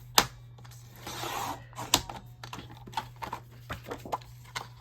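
A paper trimmer cuts cardstock down to size, heard as a short swishing slide of the blade among sharp clicks and taps of paper being handled, faint and close in a quiet room with a low steady hum.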